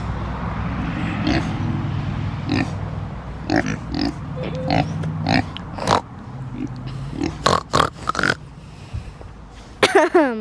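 Pig oinking and grunting in a series of short, irregular snorts at close range, with a person calling to it between the sounds.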